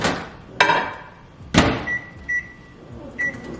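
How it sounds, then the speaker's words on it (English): A microwave oven heating water for a matcha latte: a door clunks shut, a sharp button thud follows, then a series of short electronic beeps sounds alone in a quiet kitchen. "now I'm gonna put this in the microwave for 20 seconds"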